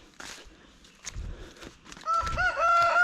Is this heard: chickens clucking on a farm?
yes